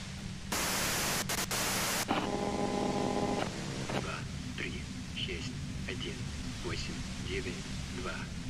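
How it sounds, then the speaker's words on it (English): Harsh white-noise static from the video game Disco Elysium bursts in loudly, broken by brief gaps, then gives way to tonal game sounds and a low steady hum. "you can do it through the white noise"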